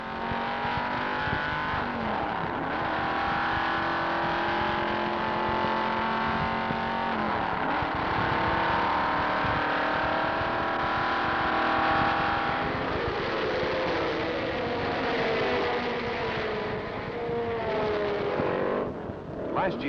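Formula A and A Sports Racing cars at top speed on the Road America circuit in 1970, engines screaming loud and high as they pass one after another, the pitch sweeping up and dropping away with each car.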